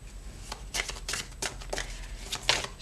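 Tarot cards handled and gathered together, a close, rapid run of papery slaps and riffles repeating in short bursts over about three seconds.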